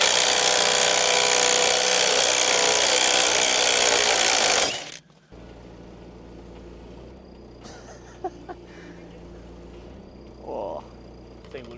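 A power tool whirs loudly for several seconds while undoing bolts under a Land Rover Defender, then cuts out, leaving quieter workshop ambience with a few faint clicks and knocks.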